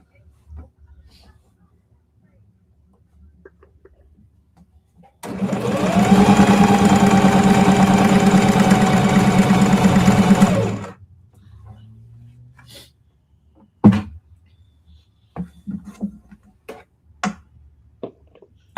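A vintage 1920s treadle-throttle sewing machine runs in a single loud, steady whirring burst lasting about five seconds, followed by quiet clicks and bumps as people talk nearby.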